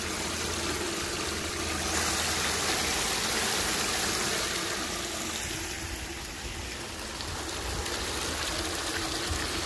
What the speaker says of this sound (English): Got about 1/2 inch of water running over everything.